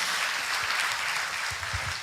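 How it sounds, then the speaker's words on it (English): Audience applause for a student at an engineering college's induction programme, a steady wash of many hands clapping that fills the brief moment. "Big round of applause for Shivashakti."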